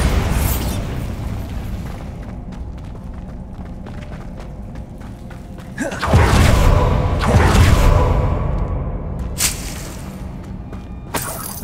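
Bombarda blasting spell from Hogwarts Legacy, loud whooshing bursts and booming explosions with crackling debris, one big blast near the middle and a sharper burst late on.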